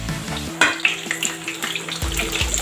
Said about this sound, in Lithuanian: Kepa greitai.